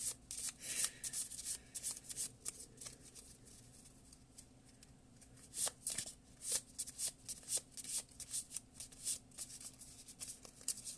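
Tarot cards being shuffled by hand, soft crisp riffling and flicking in repeated bursts, close and quiet, with brief pauses between the rustling runs.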